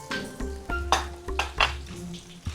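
Okra tipped into a hot wok and stirred, heard as a short burst of sizzling with several distinct spatula scrapes and metallic knocks in quick succession, close by and without speech.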